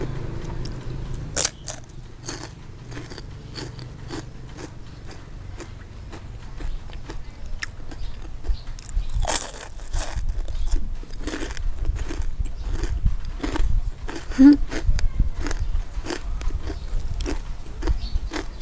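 Crispy baked vegetables are bitten and chewed close to the mic, giving a long run of loud, sharp crunches at an uneven rhythm with chewing between bites and no speech.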